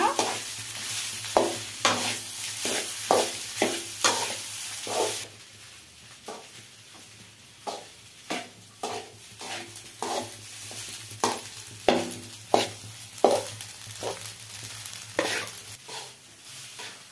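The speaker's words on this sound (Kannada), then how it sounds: "ಈಗ ಫ್ರೈ ಆಗಿದೆ. ರೈಸ್ ಸೇರ್ಸೋಣ. ಬನ್ನಿ, ರೈಸ್ ಸೇರ್ಸೋಣ. ಫ್ರೆಂಡ್ಸ್, ಮಿಕ್ಸ್ ಮಾಡೋಣ." Home-made fried rice being stirred and fried in a pan, with repeated close scraping and tossing strokes in an irregular rhythm over a sizzling hiss that is louder at first, then softer.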